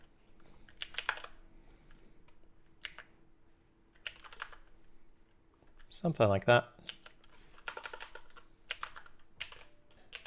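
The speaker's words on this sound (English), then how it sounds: "Typing is hard sometimes," Typing on a computer keyboard at a desk, short bursts of soft clicking keystrokes spread across the clip between stretches of quiet, with someone speaking briefly.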